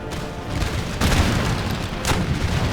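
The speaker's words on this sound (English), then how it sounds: "Cannons." Cannon fire echoes across an Empire: Total War battlefield, with two sharp booming reports about a second apart over a dense rumbling background of distant guns.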